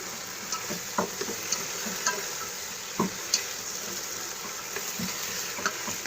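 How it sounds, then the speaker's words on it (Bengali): Meat frying in very little oil inside a multi cooker, a steady soft sizzle with occasional louder pops and stirring clicks, close and unbroken. "খুব কম তেলে ভাজি হচ্ছে"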